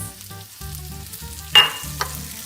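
Onion and red peppers hit hot oil in a pan for a Mediterranean fish dish, giving a close, continuous sizzle with a brief sharp crackle and clatter near the end; no one speaks.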